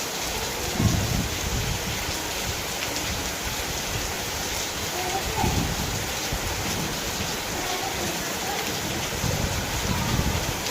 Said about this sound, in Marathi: पाणी पाणीच केलं काय पावसाने